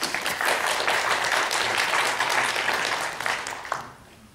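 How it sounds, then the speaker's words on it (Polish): Audience applause at an academic history conference, even and sustained clapping from a seated crowd that fades out toward the end. "Elu, wielkie brawa dla Ciebie"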